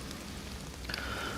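Steady rain patters in DayZ on the Chernarus servers, a constant close wash of drops hitting surfaces, with a faint tonal whine rising midway and no speech.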